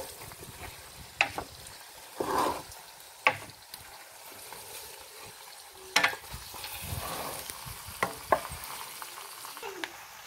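Pork fat rendering in a pan crackles with a steady soft sizzle, punctuated by several sharp scrapes and clunks of stirring spread across the stretch, with no voices.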